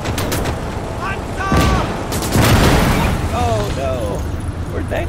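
Two heavy, booming tank cannon shots from Call to Arms: Gates of Hell land about a second apart against a steady battlefield rumble, with someone talking in between.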